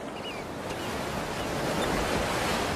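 Waves breaking and washing over a rocky California shoreline, a steady close roar of surf with hissing spray and a light touch of wind, building slightly toward the end.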